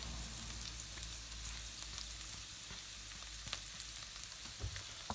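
Garlic and ginger sizzle in a hot pan for a lentil curry, a steady bright frying hiss with small pops and crackles, close up and quiet, with no talking.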